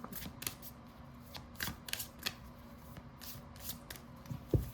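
Tarot cards are shuffled in quick, crisp riffles, repeated several times close to the microphone against a quiet background hum.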